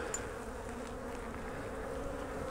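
Honey bees buzzing at an open spring hive during a brood box inspection, a steady, close, droning hum that holds evenly throughout.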